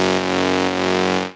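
An overdriven sawtooth lead synth with distortion and EQ for afro tech music holds one sustained, buzzy, bright tone for just over a second, loud and alone, before cutting off.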